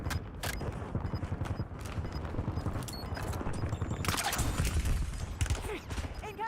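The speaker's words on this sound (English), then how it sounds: "Incoming shots." Rapid gunfire from Warzone rattles in dense bursts with scattered sharper cracks, close and steady throughout, with faint in-game voice callouts mixed underneath.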